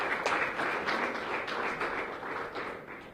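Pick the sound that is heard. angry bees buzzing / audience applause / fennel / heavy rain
audience applause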